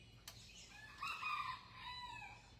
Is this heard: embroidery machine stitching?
no